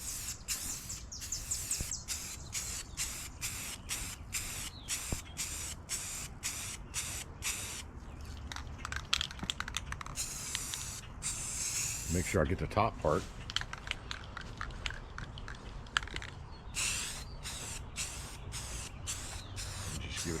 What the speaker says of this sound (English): Just give it a quick spray.